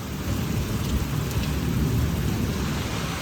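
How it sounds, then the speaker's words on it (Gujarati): An unseasonal summer thunderstorm brings heavy, continuous rain and low rolling thunder, a dense, loud wash of noise throughout with no voices. "કડાકા બહુ થાય એટલે બહુ."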